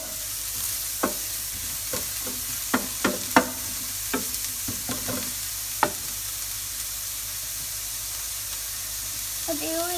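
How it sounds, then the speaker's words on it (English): Onions sizzle steadily in hot oil, a constant frying hiss broken by scattered clicks and taps of a utensil stirring the pan. "Deep sizzling."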